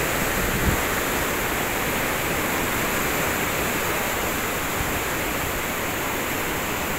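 Water rushes through a breached dike at the Lam Takhong reservoir spillway in Buriram, Thailand, a loud, steady, broadband roar that fills the whole stretch without pause and with no talk over it.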